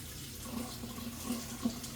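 Water is poured into a cooking pot of Puerto Rican chicken in sauce, a soft steady trickle close by with a few small splashes and no talk.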